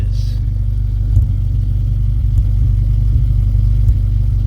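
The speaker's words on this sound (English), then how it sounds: "I'm not sure if the engine is supposed to sound like this." A 1995 Nissan 240SX engine idles roughly, a steady low rumble with uneven pulsing throughout, close and fairly loud with no talking.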